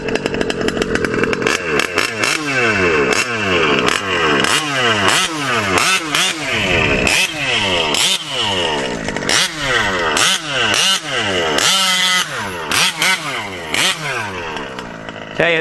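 Small-bore engine, a modded OBR 34 reed SS with a 1242 setup, power stack intake and Olamite aftermarket pipe, revved hard over and over in loud, rising and falling blasts that fill the whole stretch, close up.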